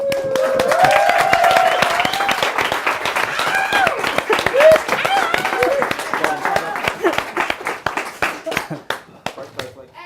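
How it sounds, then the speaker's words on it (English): Club night audience at a speaking club bursts into clapping for a speaker, sharp distinct claps in a steady rhythm from a modest group, with voices chattering and whooping over the clapping before it tapers off. "Give him a super thunderous applause"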